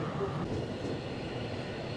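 The Glacier Express in Switzerland, travelling at around 35 to 60 km/h, produces a steady, low rolling rumble with a faint hiss, heard from inside the train as a constant, unbroken drone.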